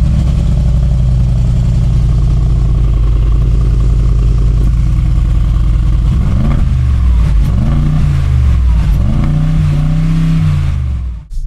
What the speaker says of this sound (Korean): 그 전에 배기음 한번